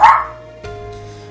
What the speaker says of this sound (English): God, the puppy is barking.